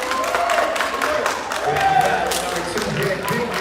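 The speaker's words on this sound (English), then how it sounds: "A lot of clapping going on." A basketball arena crowd claps and cheers in a steady wash of noise, with scattered shouts rising over the applause.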